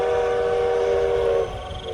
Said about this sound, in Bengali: রেলগাড়ি